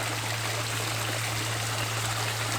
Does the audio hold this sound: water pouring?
yes